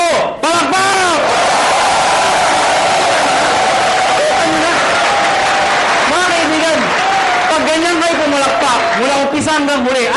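A crowd at a business opportunity presentation claps together on cue in bursts of applause and cheering, mixed with loud amplified talk from a presenter over the top.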